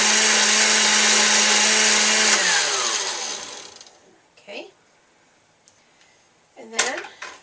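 A countertop blender runs loud and steady while churning cream into butter, then winds down with a falling whine around the third second, followed by a few knocks and clatters of handling.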